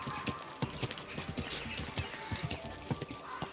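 Horse hooves clip-clopping in a steady walking rhythm in Kingdom Come: Deliverance II, near and distinct, with faint game ambience and no talking.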